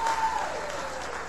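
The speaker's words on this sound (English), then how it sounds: "Give them all three a big round of applause." Audience applause at a live show, a dense steady wash of clapping throughout, fairly loud with a faint crowd murmur and a brief tone near the start.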